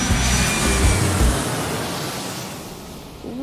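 An airplane taking off, a broad roaring rush of jet engine noise that swells loud at first and then slowly fades, steady and continuous with no voices.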